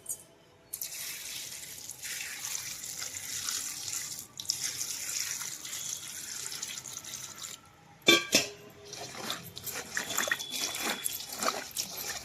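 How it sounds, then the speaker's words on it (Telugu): Water running and splashing steadily as cauliflower pieces are washed, with a brief pause and then clattering handling sounds as the washing continues, close by and fairly quiet. "ఇప్పుడు ఆ ముక్కల్లో నీళ్ళు పోసుకుని మనం శుభ్రంగా కడిగేసుకుందాం"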